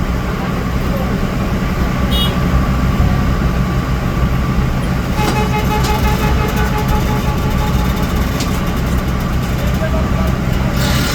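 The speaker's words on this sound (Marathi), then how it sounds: "आपला मित्र गाडी काढतोय" A new Kia car's engine rumbles loudly as it is driven out, forming a constant dense roar of engine and road noise with voices heard over it.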